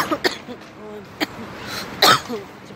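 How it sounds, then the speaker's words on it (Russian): Several short coughs and throat-clearing bursts come close by in an uneven sequence, with a louder double cough near the end, during an outdoor walk in central Kyiv; a voice murmurs briefly between them. "Кашля задолбали."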